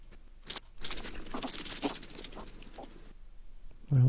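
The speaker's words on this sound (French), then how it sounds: "on entend les pas par terre, au sol" Footsteps on the ground captured by a Meidase S950 hunting trail camera, a run of soft irregular patters and scuffs close to the microphone, ending in a brief low thump.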